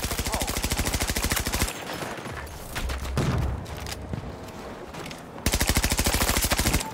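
PBX submachine gun fire in Battlefield 2042, rapid fully automatic bursts at the start and end with chaotic battle noise in between, loud and close.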